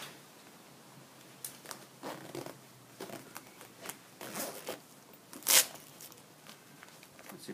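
Near and quiet, a zipper on a ventilated beekeeping suit draws along to attach the round veil in several short ratcheting pulls, with faint fabric rustling and one sharper rasp near the end.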